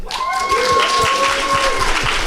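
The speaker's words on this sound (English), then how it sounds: "Let's have a round of applause for Hellraiser, Pinhead." A live Halloween horror show audience claps loudly and steadily, while a sustained tone or voice carries faintly over the clapping.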